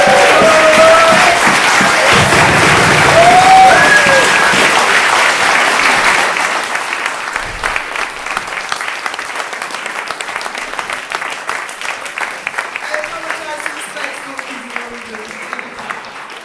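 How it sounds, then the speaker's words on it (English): Audience applause for a discussion panel fills a hall, loud, dense clapping for about six seconds, then thinning into scattered claps as it fades out. "Can we have a massive round of applause for the panel, please?"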